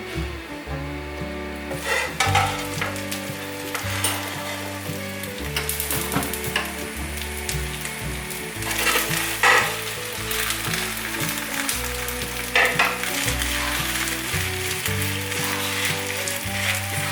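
A corn and pumpkin pancake fries in a pan after being turned over, giving a steady, close sizzle with light crackles, accompanied by background music and no talking.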